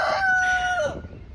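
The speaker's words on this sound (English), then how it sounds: "Rooster still wants to be part of the show." A rooster crows once, close and loud, one drawn-out call that fades quickly into quiet.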